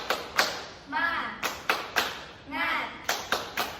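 Children in a classroom do a rhythmic clapping ice-breaker chant, with sharp unison claps in short bursts between sung or shouted voices.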